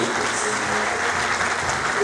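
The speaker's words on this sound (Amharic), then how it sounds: "አጨብጭቡላቸው ባካቸው።" An audience applauds steadily at a thank-you ceremony, a dense, even wash of clapping that holds at a constant level throughout without any talk over it.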